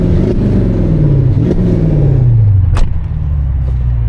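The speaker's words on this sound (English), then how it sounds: "That's what the car sounds like." A straight-piped Mercedes roars up close under revving, its exhaust note sliding downward as the revs fall, then cutting to a lower rumble with a sharp crackle near the end.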